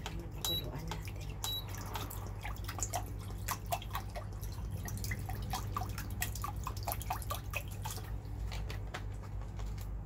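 Water is added to a cooking pot to be boiled for crab with bamboo shoots, heard as a steady run of splashing drips and trickles that lasts about ten seconds over a low background rumble.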